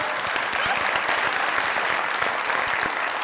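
Studio audience applause on a Pakistani comedy talk show, a steady dense wash of clapping at even loudness throughout, with no voices over it.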